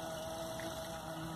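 Motorboat engine idling on a reservoir at Vinhedo, São Paulo, a low, steady, faint hum with a constant tonal whine running under it, short and without voices.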